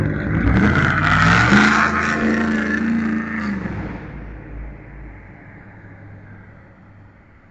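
A truck drives past at night, its engine roar swelling loudly as it nears and then fading steadily into the distance, with no talking.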